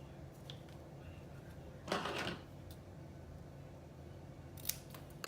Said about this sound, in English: take your 1/4 inch elastic, and we're going to cut 2 pieces of elastic for each sleeve